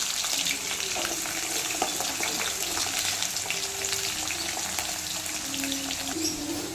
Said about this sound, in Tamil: இப்போ கடுகு, சோம்பு, வெந்தயம் நல்லா பொரிஞ்சு வந்தோன்னே பச்சை மிளகா ஆட் பண்ணிக்கலாம்.